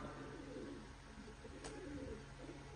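Pigeons kept in a loft coo softly and steadily against a quiet background hum, the low murmuring calls continuing throughout without any talking.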